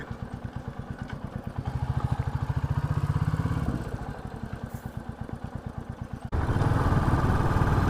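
A Royal Enfield Bullet 350 motorcycle engine thumps in a rapid, even single-cylinder beat while riding. It swells and eases as the throttle changes, then turns rougher and louder near the end, with no talk.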